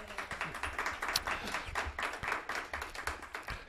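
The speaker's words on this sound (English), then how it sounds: "You guys can applaud." Small studio audience at a local talk show taping claps steadily throughout, a dense, continuous patter of hands with no voices over it.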